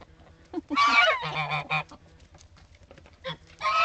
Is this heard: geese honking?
yes